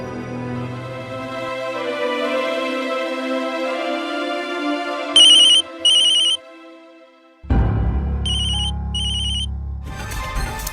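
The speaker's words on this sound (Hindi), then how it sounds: "खुशी को फोन कर लूं?" Telephone ringback while a call is placed, heard as two short double trills, each pair separated by a pause, over soft background music that changes to a deeper musical swell near the end.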